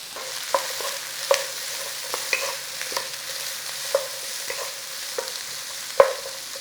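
Onions with turmeric frying in a pan for a budget chicken and potato curry give a steady, soft sizzle, broken by regular clicks and scrapes of a stirring utensil, with one sharper knock near the end.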